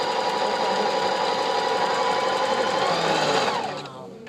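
A Singer sewing machine stitches a wide feather stitch in a steady, rapid mechanical whir up close, winding down and slowing near the end.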